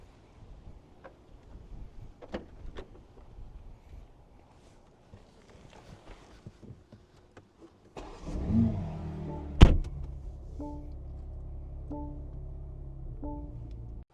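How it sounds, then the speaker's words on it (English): A BMW G80 M3 pulls into a garage. Quiet shuffling and light clicks come first, then the engine rumbles in close, a sharp thump lands, and a few soft repeating chime-like tones follow over the low idle. "let's go ahead and pull it into the garage"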